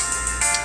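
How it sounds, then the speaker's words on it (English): A mobile phone ringtone sounds in a brief, bright electronic burst of repeating tones, close and clear with no talking over it. "I apologize for my phone ringing"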